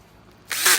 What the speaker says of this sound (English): set your screw gun so it's on the lower setting so it ratchets so you don't crack the